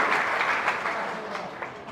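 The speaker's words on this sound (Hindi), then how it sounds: "एक बार अपने लिए जोरदार ताली बजाएं।" Audience applause at a spiritual talk by Rajyogi Anil Bhai, steady dense clapping from a large crowd filling the whole moment without a break.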